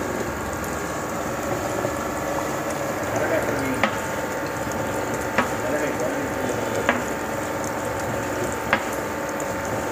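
An iron oil press (chekku) crushing groundnuts for oil rumbles in a steady mechanical drone, with a few sharp clanks at regular intervals and no voices.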